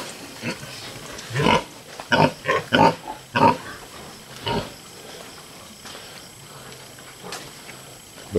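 Pigs in a piggery give a series of short, loud grunts in a quick cluster, then scattered single grunts with quieter pauses between them, close by.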